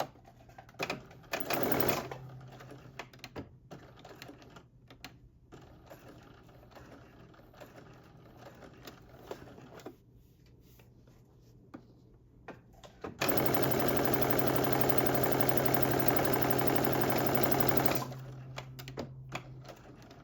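A sewing machine runs a steady stitching burst across a sweatsuit cuff seam, loud and continuous for several seconds, with lighter intermittent clicks and handling noises before it starts; nobody speaks.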